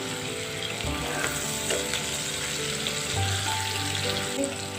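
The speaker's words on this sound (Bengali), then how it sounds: "পেঁয়াজটা একটু ভাজি করা হয়েছে" Chopped onion frying for noodles in a pan, a steady broadband sizzle with faint clinks and stirring scrapes, close and continuous with no talk.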